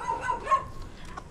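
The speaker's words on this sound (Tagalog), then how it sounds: "may aso dyan" Somewhere outdoors, a dog gives a single short, moderately distant bark with a whining edge, set against faint background noise.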